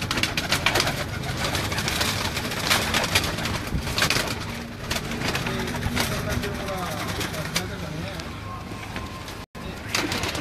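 Young Samrat-breed pigeons in a loft, soft cooing and fluttering close by beneath a busy bed of background noise, with people talking over it.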